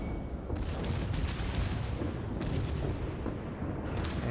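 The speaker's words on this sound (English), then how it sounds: "there are the shots from the Izumo" Heavy naval gunfire from the Izumo in World of Warships, a dense, continuous rumble with several booming shots over a roaring background, no talk.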